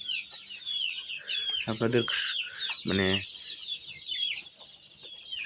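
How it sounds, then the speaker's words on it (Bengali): Drowsy, sick chickens on a poultry farm cluck in a few short, throaty bursts, with a brief spoken phrase between the calls and a constant background hum. "দেখুন এখানে কিন্তু মুরগি ঝিমাচ্ছে"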